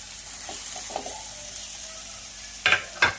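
Mashed potatoes stirred into fried masala on low heat for vada pav filling, a soft sizzling hiss with gentle scraping, then two louder sharp scrapes of a spoon against the pan near the end, with no talk.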